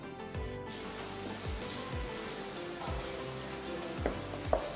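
Chopped onions with a spoonful of garlic-ginger paste frying in a pan for chicken tikka masala, a steady close sizzle with several soft stirring scrapes and taps throughout.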